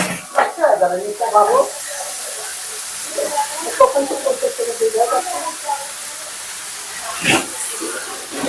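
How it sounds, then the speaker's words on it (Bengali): Pabda fish frying in oil with salt and turmeric gives a soft, steady sizzle and hiss beneath a woman's chatty speech, with occasional louder spits and stirring clatter. "লবণ আর হলুদ দিয়ে ভেজে নেব"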